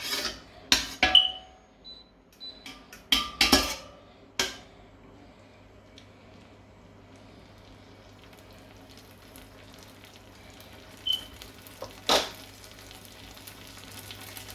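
Tomato paste frying in a pan, heard as a faint, steady sizzle under several sharp clinks and stirring knocks of a utensil against the pan, clustered early on and again near the end.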